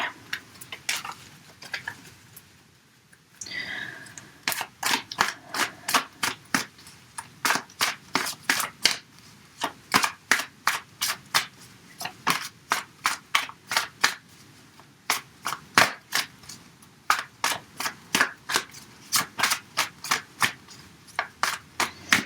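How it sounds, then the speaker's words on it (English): Tarot cards being turned over and put back one at a time, a long steady run of crisp, evenly spaced snaps and clicks, close and clear, with a brief rustle near the start and no voices. "we had a flip of the cards there, so I'm just going to put them back in the right way"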